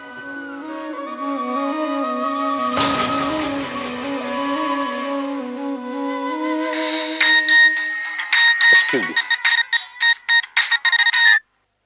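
Telephone ringtone plays a repeating electronic melody, clear and close, with a burst of noise partway through and a faster, choppier ringing pattern before it cuts off.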